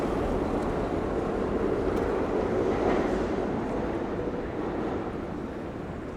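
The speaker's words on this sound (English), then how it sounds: "York City subway underneath my feet." A New York City subway train rumbles beneath street level, a broad, steady low roar that swells midway and then eases slightly toward the end.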